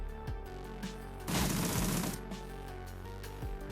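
Gunfire in the turn-based game Shadowrun: Dragonfall, a short burst of rapid shots over game music, with a few sharp clicks and thuds around it.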